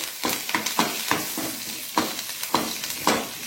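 Curry leaves and a pinch of asafoetida fry in hot oil as a spoon stirs them, giving a steady close sizzle broken by a series of sharp scraping strokes and crackles.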